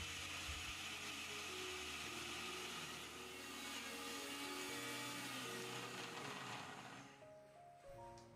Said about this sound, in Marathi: मिक्सरचा झाकण लावून लगेच मिक्सरला फिरवून घेऊयात